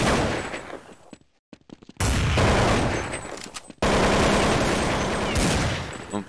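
Bursts of rapid gunfire in Counter-Strike 1.6 crackle loudly in dense volleys, broken by a brief near-silent pause, then resume with sustained automatic shooting.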